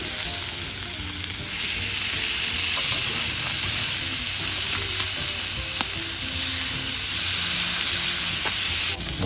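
Smash burger patties sizzle steadily on a closed grill, a dense, continuous frying hiss with a few faint clicks and scrapes, no voices.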